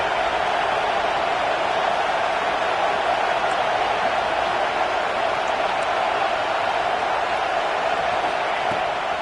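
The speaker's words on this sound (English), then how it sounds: "This crowd bringing the energy and noise early." A packed football stadium crowd at a Georgia versus Penn State game roars in a constant, wide wash of noise that holds at an even level throughout, distant and unbroken.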